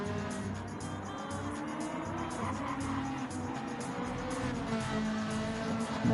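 Ferrari GT1 race car engines on soft tyres in a racing video game, a steady sustained roar of several cars running together at an even level, with no one talking.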